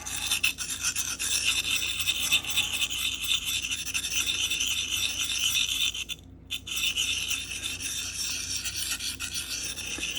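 A knife blade scrapes along a Sharpal field sharpener in a close, continuous gritty rasp of repeated strokes, broken by one brief pause partway through, with no talking.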